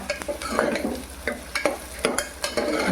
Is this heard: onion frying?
yes